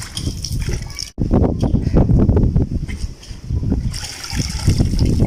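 Wet cotton cloth lifted out of a tub of soaking water, giving close, loud splashes, drips and trickling in several bursts, with a brief silent gap near the start.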